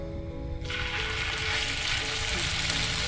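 Food frying in oil in a pan in a North Karnataka home kitchen, a steady close sizzle that swells and brightens after a moment and then holds loud and continuous, with no talking.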